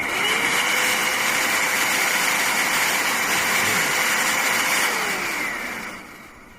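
A Multipro ESP99Hp electric spray gun switched on and held upright, a loud steady motor whine held for several seconds before winding down and fading at the end.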